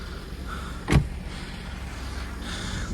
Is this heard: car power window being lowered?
yes